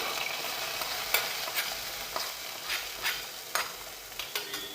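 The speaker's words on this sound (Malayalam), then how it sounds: "ഇനി നമുക്കിതിനെ മീൻ കറിയിലേക്ക് ചേർത്ത് കൊടുക്കാം" A light golden fried mixture hisses and sizzles as it goes into a pan of Kerala-style fish curry, steady frying crackle with scattered sharp pops and stirring clinks, close and alone.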